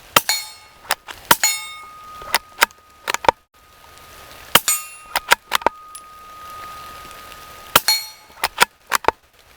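Shots from a 5.56 AR rifle fired outdoors in clustered volleys, sharp loud cracks with metallic ringing after some of them, separated by quiet gaps.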